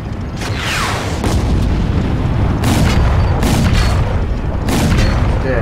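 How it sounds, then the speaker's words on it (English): A tank blows up after a missile hit in the video game Crysis 2, heavy booming blasts rolling over each other with sharp bursts of debris, loud and continuous. "That tank has exploded purely from being hit by a missile."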